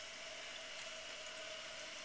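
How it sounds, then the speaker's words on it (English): A 2005 Eljer Titan two-piece toilet tank refilling, with water running in a steady, even hiss at close range and no talk. "I can hear water running though."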